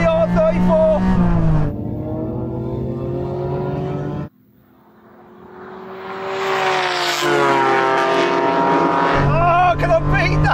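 Japanese sports cars race on track, a Honda NSX and a Nissan Skyline R34 among them, engines revving loudly and shifting through gears, with a brief dip before a rising roar returns.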